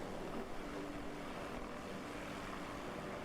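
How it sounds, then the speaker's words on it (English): A vehicle engine in the video game DayZ, likely a modded helicopter, drones as a loud, constant, broadband roar with a steady low hum and no voices over it. "so the sound of the engine gets kind of annoying"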